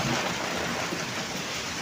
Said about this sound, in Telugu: చాలా ఈదురుగాలులతో చాలా వర్షం పడింది.